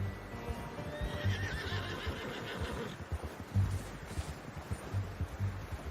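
A horse whinnies in the Western video game Red Dead Redemption 2, a drawn-out neigh at the start over soft clip-clop hoof steps that continue alone afterward.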